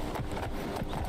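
Steady clip-clop of a horse's hooves at a gallop in the video game Skyrim, rhythmic thuds close and continuous with no talking.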